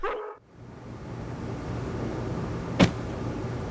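A dog in the Harvester video game gives one short, sharp bark against a steady background hum, close and loud.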